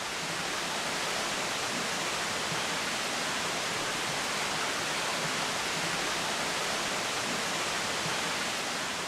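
Steady, even rush of water flowing over stone fountains at Lavapatas in the Colombian Massif, a continuous broadband wash with no pauses or voices, moderately loud.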